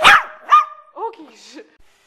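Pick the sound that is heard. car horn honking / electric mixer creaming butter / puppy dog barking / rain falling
puppy dog barking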